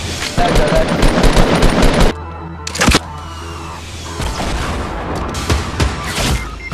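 Gunfire crackles through a Fortnite squad match, with loud, fast automatic bursts, a sharp single crack and a sudden pause, then more scattered shots. A player talks over the action.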